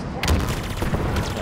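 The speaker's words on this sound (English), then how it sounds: "on these brutes, I'm going to use the pulse carbine and wear their shield out and then headshot them" Pulse carbine fire in Halo Infinite, a rapid string of short energy shots in quick succession, steady and moderately loud amid combat noise.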